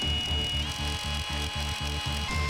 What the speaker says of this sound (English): Got the drill and started to drill in the head.